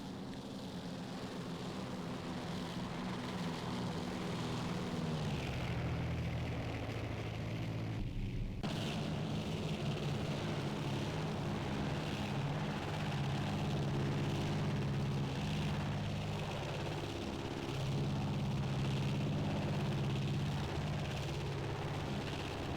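A 1937 Beechcraft Model 18 twin-engine plane making a flyby in a flight simulator game: a loud, steady droning propeller-engine roar lasts throughout and swells and shifts in pitch as it passes, with a brief dip midway.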